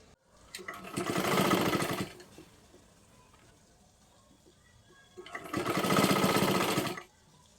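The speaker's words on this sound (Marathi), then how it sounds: "त्याच्यावरतीच परत एकदा आपल्याला शिलाई करून घ्यायची आहे" A sewing machine stitching a kurti sleeve onto a ready-made top runs in two separate steady bursts of about a second and a half each, with a quiet pause between them, close and fairly loud.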